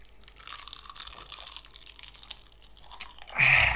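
Chewing on spicy Thai boiled pork belly wrapped with vegetables, soft close crunches and mouth sounds through the meal, building to a louder burst of crunching at the end.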